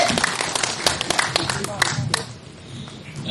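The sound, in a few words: applause for the birthday person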